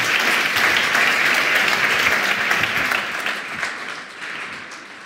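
An audience at a German slam event applauds, steady and full at first, then thinning and fading toward the end, with no voices over it.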